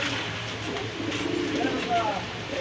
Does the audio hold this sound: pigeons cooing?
yes